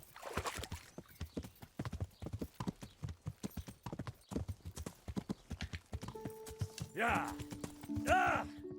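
Rhythmic clip-clop of horse hooves trotting in the video game Kingdom Come: Deliverance, followed by a horse neighing twice near the end, with a faint steady tone underneath.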